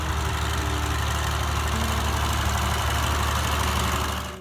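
A John Deere 4020 tractor's 404 cubic inch, 6.6-litre inline six-cylinder diesel running with a loud, steady, close-up low rumble and knock that stays constant before easing off at the end.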